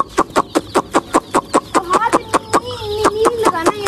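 Desi chickens cluck in a quick, regular series of sharp close calls, with a drawn-out vocalization rising near the end, loud and up front.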